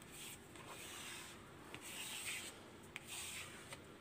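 A scraper tool rubs paper on a cutting mat, a soft, steady rubbing and scraping across a flat surface throughout, with a few faint ticks, quiet and close.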